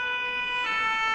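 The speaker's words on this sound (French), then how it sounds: "On dirait bien que les pompiers sont dans la rue." A fire engine siren sounds out in the street, a steady wailing tone held throughout, fairly loud and unbroken, with no voices over it.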